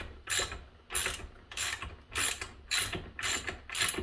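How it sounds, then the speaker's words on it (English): Ratchet turning a spark plug back into a chainsaw cylinder, seven crisp clicking bursts in a steady back-and-forth rhythm, close and fairly quiet. "I'm going to put this spark plug back in."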